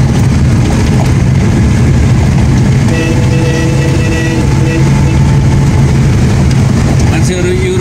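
Motorbike engines drone steadily on a snowy road in Upper Mustang, a loud continuous low rumble that persists throughout with some rising tones as the bikes draw near.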